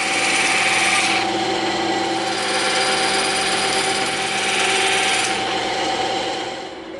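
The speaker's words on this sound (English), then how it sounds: "let's cut some of this excess off so we're not handling so much foam." A loud, steady, high-pitched power tool whines continuously while cutting excess EVA foam for a prop glaive, swelling slightly twice and easing off at the end, no talk.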